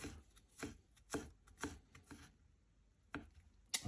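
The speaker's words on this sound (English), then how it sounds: "Okay, I'm preparing 1 clove of garlic to go into the sauce. So I'm just going to slice it very finely into tiny little cubes." Knife chopping a garlic clove finely on a board, with bursts of quick close cutting strokes, a few pauses between them, and a final sharp tap.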